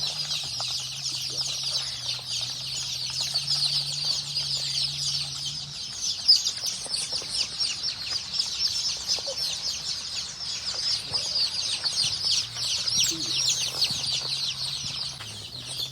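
Many chicks cheep continuously in a high-pitched chorus inside a poultry shed, with occasional clucks and flutters and a low hum in the background.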